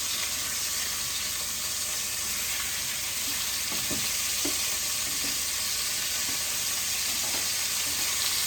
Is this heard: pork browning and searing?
yes